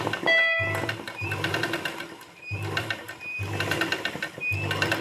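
A sewing machine stitches embroidery in rapid bursts of clattering needle strokes, starting and stopping several times with short pauses between runs.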